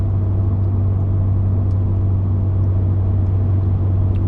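A Ford Raptor's engine cruising in sport mode makes a steady, deep, low rumble that holds evenly throughout, with no talking over it.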